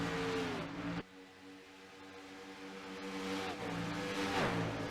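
Stock cars racing side by side down the backstretch at Michigan in a 200-lap round-of-four race, engines roaring loud and steady as the pack passes, with a sharp drop and swell as the cars go by.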